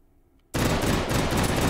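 A Beretta M93R fitted with stock and compensator fires in H3VR: after a brief quiet moment, loud rapid gunshots erupt in a continuous burst, close and harsh.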